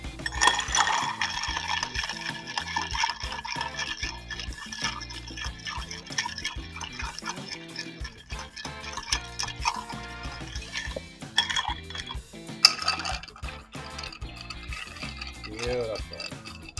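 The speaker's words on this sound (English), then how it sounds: "I'll start stirring these together." Old Fashioned ingredients of sugar, water, bitters, muddled orange and cherry stirred in a glass, with steady clinking and scraping of a bar spoon against glass and ice, close and continuous, with some background music underneath.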